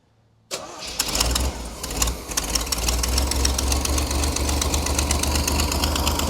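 A motorcycle engine fed by a custom flat-fender fuel tank with an in-tank pump and EFI fires up after a brief silence and settles straight into a loud, steady, rapid-pulsing idle close by.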